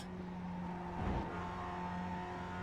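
A race car engine at Laguna Seca in the iRacing sim, droning steadily and then swelling briefly in a burst of acceleration before settling back to a constant hum, close and alone.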